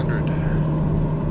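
A Daher TBM 930 turboprop descends toward Cold Bay, Alaska with the throttle pulled right back, gliding. A steady, low cabin drone holds evenly throughout.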